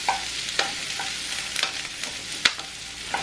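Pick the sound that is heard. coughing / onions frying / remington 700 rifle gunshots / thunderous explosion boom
onions frying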